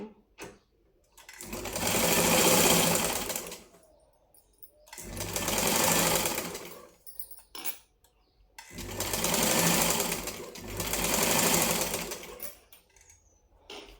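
A sewing machine stitches the neckline of a lined blouse in four loud, steady whirring runs, each lasting a few seconds and separated by short quiet pauses.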